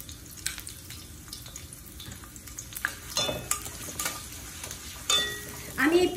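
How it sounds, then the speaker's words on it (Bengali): Chopped onion with two green and one black cardamom pod frying in a pan for egg curry, a soft steady sizzle with scattered crackles and a few louder spits near the end, close by with no talk. "আমি এই পেঁয়াজটা ভালো করে ভাজা হওয়া পর্যন্ত অপেক্ষা করব।"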